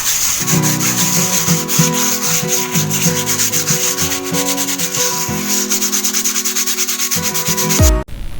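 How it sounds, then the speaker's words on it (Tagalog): A hand-made cement leaf being sanded by hand, a close, loud, steady rasping scrub in rhythmic back-and-forth strokes, ending in a brief knock near the end, with no talk. "So lilihain po natin ng konti para maging madulas."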